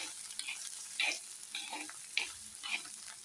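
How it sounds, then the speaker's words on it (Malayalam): Green beans stirred in a pan with oil and popped mustard seeds give a soft, continuous sizzle broken by light scraping strokes of a spoon, fairly faint and with no voices. "നന്നായിട്ട് ഇളക്കി കൊടുക്കാം നമുക്ക്"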